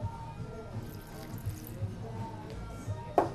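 Water poured into a crushed berry mixture makes a soft, continuous trickle with faint splashes, ending in a brief louder splash right at the close, with no talking.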